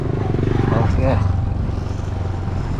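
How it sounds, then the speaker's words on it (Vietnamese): A 2023 Honda Civic engine idles with a steady low rumble while the car starts to pull away, close by, and a voice speaks briefly over it. "Mình đang nổ máy thì mình đi nè."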